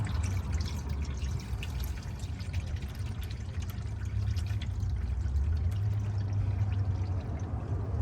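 New motor oil pours steadily into the engine of a 2018 Chevy Silverado 1500 during an oil change, a continuous close gurgling glug that holds at an even level for the whole stretch, with no voices.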